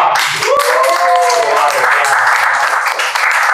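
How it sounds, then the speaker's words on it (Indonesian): A crowd applauds with dense, steady clapping, loud and close, and a few voices call out briefly near the start. "Tepuk tangan dong."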